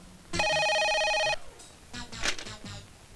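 A telephone bell rings once in a sustained electronic trill for about a second, followed by quieter rustling and movement sounds.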